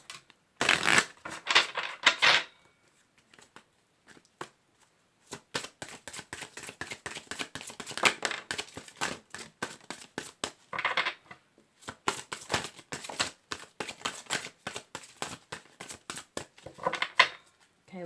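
Tarot cards are shuffled in repeated crisp riffles and rapid flutters, with short pauses between rounds and brief spells of quiet.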